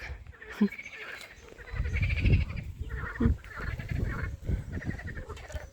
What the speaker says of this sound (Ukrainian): жабки, лягушки квакають